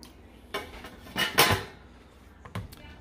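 Pork for lechon kawali is set into a metal turbo broiler, with a few sharp clanks and clatters of metal and cookware, close and fairly quiet, separated by short pauses.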